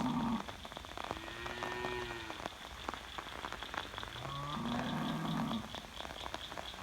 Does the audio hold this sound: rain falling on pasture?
yes